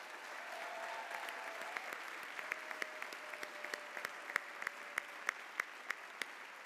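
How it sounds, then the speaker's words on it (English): An audience at a 2021 homecoming ceremony applauds the Homecoming Court. The clapping is steady and moderately distant, then thins into sparser, sharper individual claps near the end, with a faint steady tone underneath. "let's give another round of applause for our 2021 Homecoming Court"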